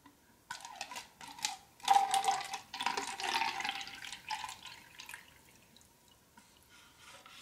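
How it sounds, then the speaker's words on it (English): Water poured from a container into a ceramic cup in a quiet room, a gentle trickling splash that rises after a soft start, runs for several seconds and tapers off, close and soft with no talking. "I guess some people like ceramic more than styrofoam. Just trying to be hospitable, I guess. So I'm gonna pour it in."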